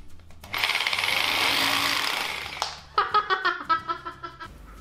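A heavier-duty drill bores into a gravel-studded concrete wall, first as a loud continuous whirring grind, then as a rapid series of hammering pulses, close up with no voices.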